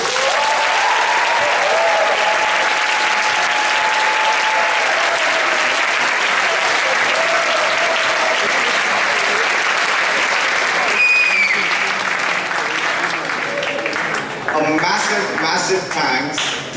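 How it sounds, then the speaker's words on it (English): A big round of applause from the audience at the end of an all-day seminar with guest speakers: loud, sustained crowd clapping for over fifteen seconds, thinning slightly near the end, with a voice faintly audible over it. "I would like if you guys give a big round of applause for yourself."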